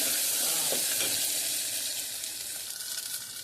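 Ginger paste sizzles steadily in hot oil for a cooking curry, a close, even frying hiss with a few small crackles, heard alone with no voices.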